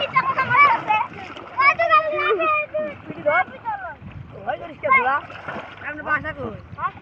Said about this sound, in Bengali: অনেক আনন্দ করে গোসল করতেছে